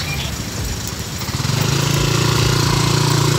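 A Yamaha NMAX motor scooter engine putters close by, rising into a steadier, louder idle-like hum after the first second and a half.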